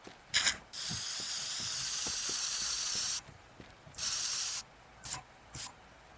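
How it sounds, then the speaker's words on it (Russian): A spray can in the video game Teardown hisses in a long steady burst lasting a few seconds, then a second shorter blast and two quick short puffs, with a faint clicking mechanism underneath. "Дальше у нас спрей."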